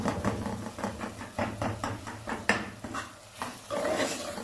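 A spoon stirs and mashes tomato masala in a pan for bhindi fry, producing a steady rhythm of close, scraping strokes and soft clinks against the metal, with a faint sizzle underneath.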